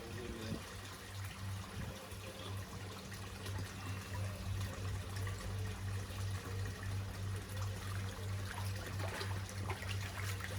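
Water trickles and splashes steadily from a Dainichi shower filter at a 3000-gallon koi pond outdoors, a continuous faint patter over a low pump hum, with no voices.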